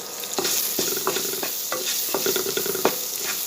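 Chopped onions sizzle steadily while sautéing in a pan for beans poriyal, with a spoon scraping and stirring in a quick, repeated rhythm close by.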